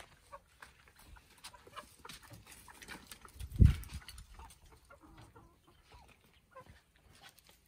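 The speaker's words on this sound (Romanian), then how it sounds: "Vedeți, cocoșii se înțeleg" Roosters and hens cluck softly in a poultry yard, faint scattered clucks and scratching with one louder thump midway, distant and quiet with no talking.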